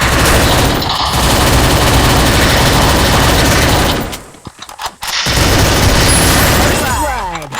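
Dense, loud gunfire in the Free Fire battle-royale game: continuous rapid bursts with a brief lull partway through, then firing resumes, with a player talking over it.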